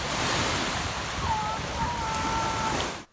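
Ocean waves wash and roar steadily with broadband surf noise and wind buffeting the microphone, loud and continuous before cutting off abruptly at the end.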